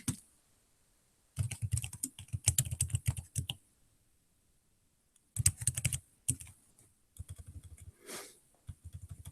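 Rapid typing on a computer keyboard in a quiet room, close key clicks coming in several separate bursts with silent gaps between them.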